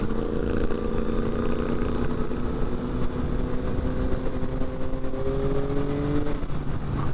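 A 2022 Yamaha XSR900 rides through traffic. Its engine note climbs smoothly under light throttle, then settles, close and continuous over a broad roar of wind and road noise.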